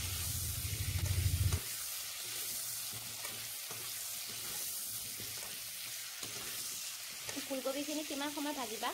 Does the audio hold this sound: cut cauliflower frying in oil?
yes